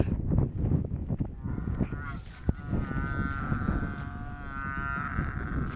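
A buffalo lows in a long, drawn-out moo that swells up from a rumbling background and holds for several seconds, with a sharp knock partway through.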